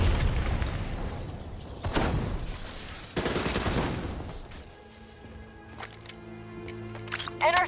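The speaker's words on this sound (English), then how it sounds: "They're about to detonate!" Rogue robots detonate in the video game Call of Duty: Black Ops 3, producing several heavy, booming blasts with crackling debris that give way to a tonal musical score and faint voices.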